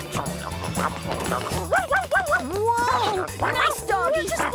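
A cartoon dog in The Garfield Show yips, whimpers and barks in short, rising bursts over a busy animated soundtrack.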